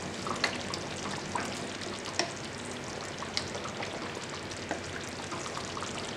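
White chicken korma simmering with green chillies is stirred in a pan, a soft frying sizzle broken by repeated light clicks and scrapes of the spoon against the pan, with no one talking.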